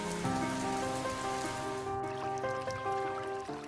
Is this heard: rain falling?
yes